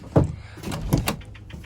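The rear doors of a 2003 Ford Econoline camper van are opened, giving two distinct clunks of latches and hinges, close and clear with no talk.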